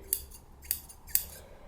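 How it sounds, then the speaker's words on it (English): Scissors snip through bias-cut dress fabric on the floor, three crisp, fairly close cuts spaced roughly half a second apart over a quiet room background. "Time for some cutting. Because I'm on the floor. No rotary cutter. Just scissors."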